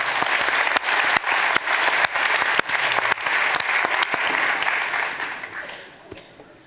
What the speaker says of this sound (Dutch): Geef er een heel hartelijk applaus.